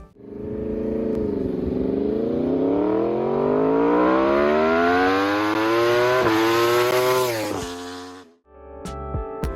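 A Yamaha R1 four-cylinder crossplane sport motorcycle engine revs up steadily to a high-pitched scream, holding near the top before dropping off sharply, loud and close.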